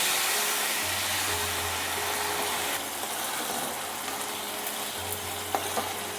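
Fried spice paste for kasundi vola hisses loudly and continuously in the pan as a little water is added, the broad close sizzle softening slightly midway, with a few faint clinks near the end.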